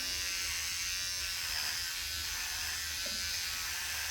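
An electric hair clipper buzzes steadily as it struggles through wet hair, a faint continuous whine with no voices heard.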